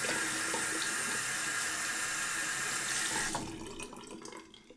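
Tap water runs steadily into a sink as a synthetic shaving brush is wetted, a close, continuous splashing hiss that tapers off and stops near the end, with no talking.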